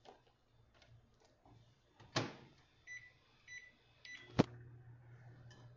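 A microwave oven melting chocolate in a 20-second interval in a kitchen, giving a low steady hum after a door click, with faint clicks and knocks earlier.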